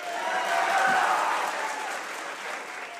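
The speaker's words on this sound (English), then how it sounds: "to thundering applause" A crowd applauding loudly and steadily for a few seconds, a dense wash of clapping that fades slightly toward the end.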